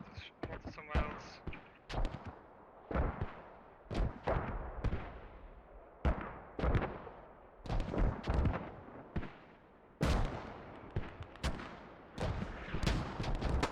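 Mortar rounds and gunfire in the tactical shooter game Squad, heard during a competitive match. Sharp booms and cracks come in irregular repeated bursts across the whole stretch, close and punchy, with some faint voice chatter underneath.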